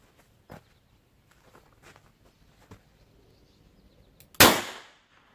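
A revolver fired over a chronograph during load testing, one sharp loud report near the end that rings out briefly, preceded by faint scattered clicks and handling noises.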